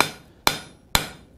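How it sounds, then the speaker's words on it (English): A blacksmith's hammer strikes hot iron while forging a pine tree hook: three sharp, ringing metallic blows spaced about half a second apart, each decaying into a brief ring, close and alone. "Slightly overlapping my hammer blows"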